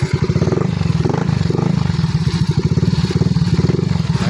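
A motorcycle engine runs loud and close after a misfiring fuel injection system is repaired, throbbing in a fast, even pulse throughout.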